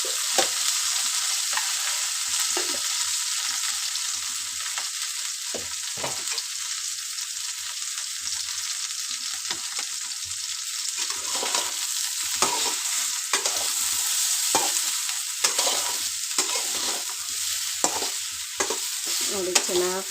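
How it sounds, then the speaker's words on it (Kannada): Onion and tomato frying in a pan on the stove, a continuous bright sizzle with repeated scraping stirs throughout, close and steady with no voices. "ಚೆನ್ನಾಗಿ ಫ್ರೈ ಆಗ್ತಾ ಇದ್ದಾವೆ ಈರುಳ್ಳಿ ಟೊಮೊಟೆ"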